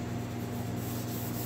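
Sanding around the filler neck of a Honda ATC90 three-wheeler during restoration: a steady, close rubbing abrasion with a constant low hum beneath it, continuous and without talk.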